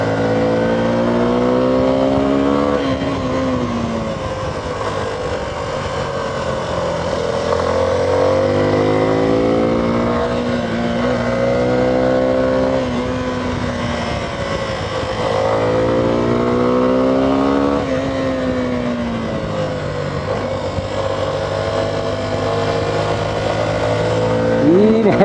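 A Suzuki V-Strom 250SX motorcycle engine revs and rises and falls in pitch through a series of hairpin bends on a winding road, loud and continuous, with wind noise and a rider talking over it.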